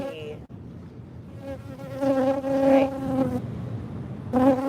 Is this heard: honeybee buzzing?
yes